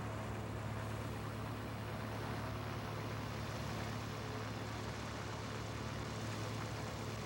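The Cyclo Crane's lower engine runs steadily at operating temperature as rotation begins, a constant low droning hum with no talking over it.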